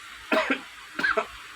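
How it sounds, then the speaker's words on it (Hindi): A person who is ill with a cold and body aches coughs twice up close, two short, harsh double-barked coughs separated by a brief pause in an otherwise quiet room. "और जैसे खांसी चलती है ना"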